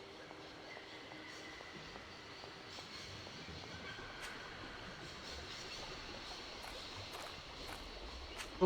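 Train arriving in the video game Syberia, a steady low rumble with faint rhythmic clicks and a few brief metallic squeaks, continuous and fairly distant, with no talking.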